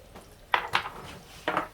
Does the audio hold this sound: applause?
no